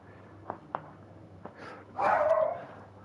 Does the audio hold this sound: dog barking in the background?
yes